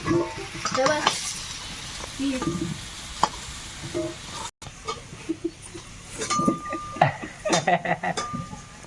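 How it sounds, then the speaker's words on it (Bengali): Potatoes fry in oil in a kadai, a soft steady sizzle with scraping stirs and clinks from the pan, while goat bleats and other household noises break in now and then. "আলুটা লাল লাল করে ভাজা হয়ে গেছে"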